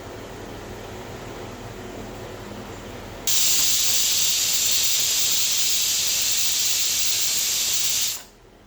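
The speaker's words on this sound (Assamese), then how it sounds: "এতিয়া চাউলকেইটা গাখীৰত সিজাই ল'ম।" Rice cooking in milk for Assamese kheer in a covered pot: a quiet bubbling simmer, then a loud, steady steam hiss that runs for several seconds and cuts off abruptly.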